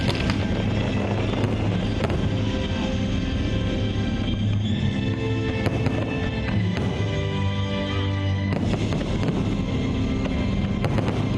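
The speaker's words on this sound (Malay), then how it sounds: "Langit di Putrajaya menjadi terang benderang pada malam 30 dan 31 Ogos dan dari 13 hingga 15 September yang lalu dengan simbahan cahaya bunga api." Fireworks at the Putrajaya international fireworks festival in 2013 send out a continuous wash of booms and crackling bursts, with sharp louder cracks at intervals over a dense roar of noise.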